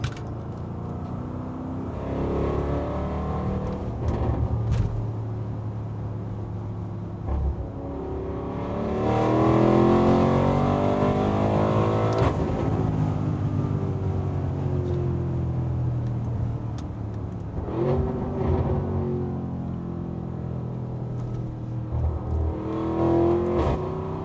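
A powerful 2020 Audi RS Q8 engine revs and accelerates repeatedly on a winding road, the exhaust note rising and falling through gear changes, loud and close from inside the vehicle.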